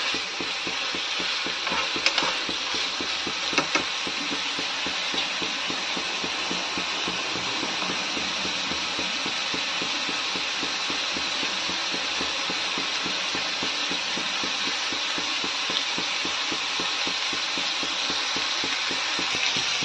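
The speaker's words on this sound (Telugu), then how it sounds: "చికెన్ వేసి ఇలా బాగా వేయించుకోవాలి ఆయిల్లో." Steady, dense sizzling of chicken frying in hot oil for biryani, loud and close, with occasional stirring clinks, continuous throughout without talk.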